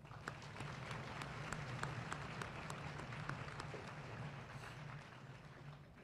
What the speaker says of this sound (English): Please join me in a round of applause for my cadre.